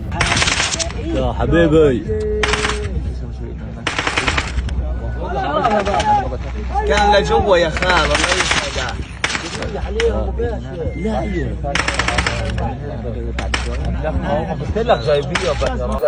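Gunfire aimed at people collecting food, rapid bursts and single shots repeating throughout, loud and close, over a low constant rumble and crowd noise.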